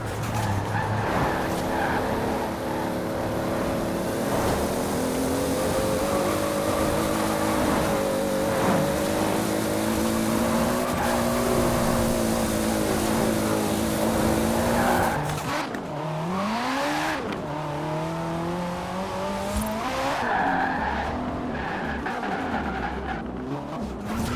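Engine-swapped cars in Forza Horizon 4 roar continuously at high revs with rising and falling pitch, then tires squeal and skid loudly through hard cornering before the engine climbs again.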